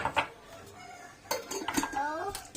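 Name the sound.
spoon stirring ghee in a cooking pot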